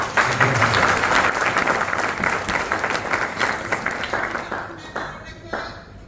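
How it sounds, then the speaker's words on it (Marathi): Enthusiastic audience applause at a business seminar, dense clapping that starts loud and gradually thins out and fades. "एकदा जोरदार टाळ्या"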